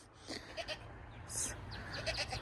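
A goat bleats in brief, faint calls among a herd, with rustling and quiet background sounds around them.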